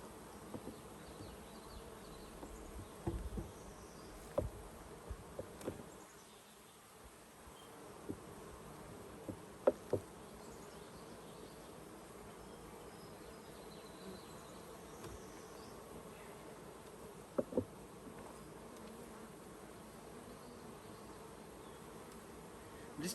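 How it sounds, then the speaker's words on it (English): Low, steady buzzing from many honey bees in a hive box fills the whole stretch, with a few soft knocks and bumps of frames breaking through now and then. "There's tons of bees in here."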